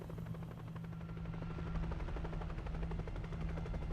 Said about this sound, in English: we're apparently in the helicopter next to the other helicopter